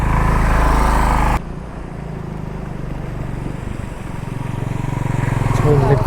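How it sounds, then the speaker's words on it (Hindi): An auto rickshaw drives through flood water in Himachal Pradesh, its engine droning loudly nearby, then falling away to a lower steady motor hum under rushing water, with someone talking over it. "चलो ऑटो तो निकल गया भाई।"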